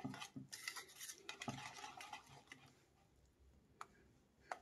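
Pancake batter being stirred with milk in a bowl, a spoon scraping and clinking against the sides in quick irregular strokes, close and fairly quiet, with a couple of sharper taps near the end.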